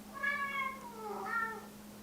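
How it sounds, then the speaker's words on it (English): A domestic cat meows for attention, giving two drawn-out, rising-and-falling meows in close succession, close and clear with no talking over them. "My cat wants my attention."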